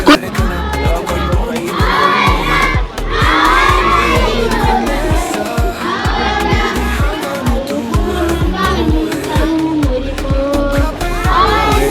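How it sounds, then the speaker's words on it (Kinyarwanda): A large, loud crowd of students at a school graduation parade shouts and cheers over a steady, rhythmic pulse of beats that runs throughout. "Amashyi menshi cyane."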